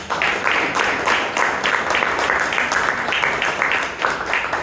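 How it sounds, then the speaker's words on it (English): A Toastmasters club audience gives a round of applause to an honoured member. The clapping is continuous and moderately loud, a roomful of hands sustained across the whole stretch. "Let us give one more round of applause for our Pitamaha"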